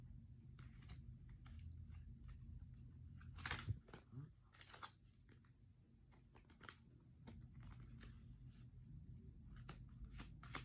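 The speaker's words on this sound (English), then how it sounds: "If there's like multiple cards, I kind of like to put them back in the deck and reshuffle here." A deck of oracle cards is handled and shuffled close up, giving quiet bursts of papery riffles and flicks scattered across the clip, with a brief louder flurry partway through.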